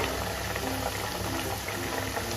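Sabudana vada deep-frying in hot oil, a steady dense sizzle and bubbling held at an even level throughout, close and unbroken with no talk over it.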